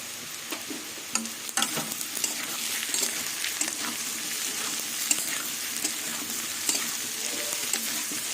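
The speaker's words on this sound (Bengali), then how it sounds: "কিছুক্ষণ আলুটা ভালো করে আবার ভেজে নেব" Potato pieces and onion with turmeric fry in a pan, a loud continuous sizzle broken by frequent scraping and clinking as a utensil stirs them.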